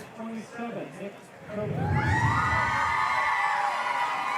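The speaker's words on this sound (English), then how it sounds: "that's the biggest applause I've heard all day long." A baseball crowd at a game swells into loud cheering and whoops after brief commentary, a sustained roar of many voices with scattered shouts.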